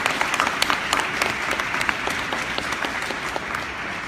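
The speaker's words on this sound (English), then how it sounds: "Please join me in giving this year's local heroes a round of applause." Audience applause for this year's local heroes at the Salt Lake County Diversity Dinner: dense, steady clapping from a large crowd filling the room, sustained throughout with no voices over it.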